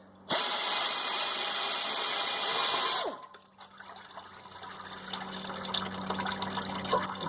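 Transmission fluid draining from the pan of a 4T65E automatic transmission after a pan bolt is pulled. A loud, steady gush lasts about three seconds and then drops to a quiet trickle and dripping.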